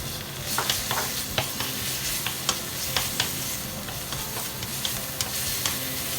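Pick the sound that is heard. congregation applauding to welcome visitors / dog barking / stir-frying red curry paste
stir-frying red curry paste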